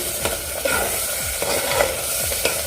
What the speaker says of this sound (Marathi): परतून घ्यायचं आहे वाटण